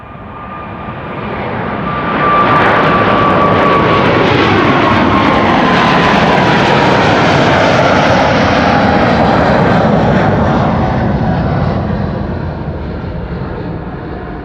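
A Transavia airliner departs Amsterdam Schiphol, its jet roar building over a couple of seconds, staying loud and broad for most of the clip, then slowly fading as it climbs away, heard alone.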